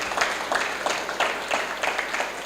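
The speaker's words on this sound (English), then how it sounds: "Keep clapping." Audience applause after a speech at a law and technology event in Nigeria, a steady patter of clapping with regular swells, moderately loud and continuous with no talk over it.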